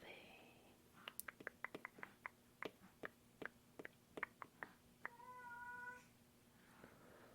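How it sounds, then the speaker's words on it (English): A needy house cat meows repeatedly in a quiet room, a string of short, close, soft calls with a longer drawn-out meow near the end, with faint whispering around it. "I swear this cat is so needy."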